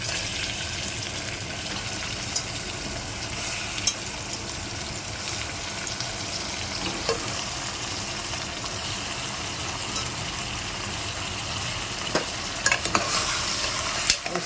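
Mutton chops sizzle steadily with onion in a pan while being stirred, a dense continuous frying hiss with scraping stir strokes and occasional sharper clicks, close and fairly loud throughout with no talking.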